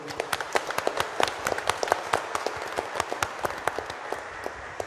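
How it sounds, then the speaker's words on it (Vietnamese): A church congregation claps during a Catholic Mass, a scattered round of individual handclaps with distinct sharp hits, moderately close and fairly quiet, with no talking over it. "cộng đoàn chúng ta vỗ một tràng vỗ tay chúc mừng."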